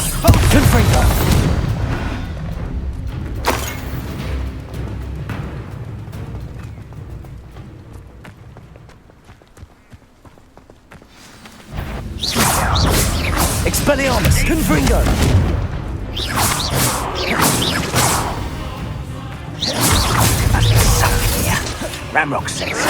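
Confringo and Expelliarmus spell blasts in the video game Hogwarts Legacy land as loud booming, crackling bursts in several dense clusters, separated by a quieter stretch, under combat noise.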